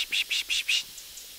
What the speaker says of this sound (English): I hear a Pacific wren in here again.